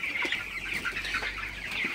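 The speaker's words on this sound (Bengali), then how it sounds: "মুরগির পানি খাওয়ার দৃশ্যটা একটু শেয়ার করলাম।" A flock of broiler chickens clucks and chirps at night while drinking water, a close, busy overlapping chatter that runs continuously through the short stretch without speech.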